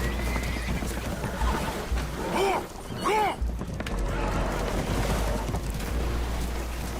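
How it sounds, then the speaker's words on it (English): A horse whinnies twice in quick succession aboard a boat taking on water in Red Dead Redemption 2, over a loud, constant rush of churning water and wind. "Horses are spooked, and we're taking on water."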